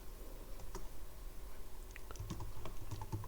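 An SQL query is typed on a computer keyboard, giving scattered soft key clicks and taps close by over a steady low hum, fairly faint, with no talking.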